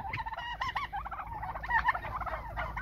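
Young blue and lavender turkeys gobbling in a flock, a dense run of bubbling gobbles and calls overlapping close by, loud throughout with no talk.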